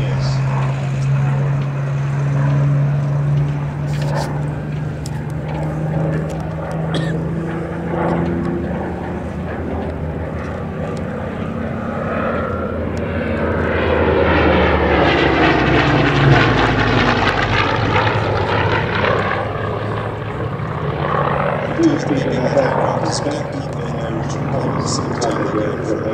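Hawker Hurricane, a rebuilt Mark I in No. 1 Squadron colours, flying at a Duxford air show, its propeller engine droning steadily and swelling loudly as it passes near, with a commentator talking over it throughout.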